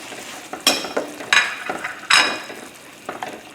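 Shrimp stir-fried in a pan for chow mein: sharp clattering stirs and tosses rise over a low sizzle in uneven bursts, close and fairly loud, with no talking.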